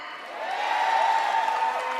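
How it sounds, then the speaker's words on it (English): A large arena audience at a Miss Universe preliminary competition in Manila's Mall of Asia Arena applauds, a steady, even wash of clapping that swells slightly and holds for the whole two seconds. "Please be generous with your applause tonight and clap for all of the ladies that you see on stage."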